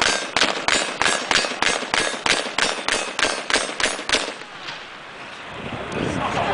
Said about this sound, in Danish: Han skyder på stålen, så hver gang hører et knald,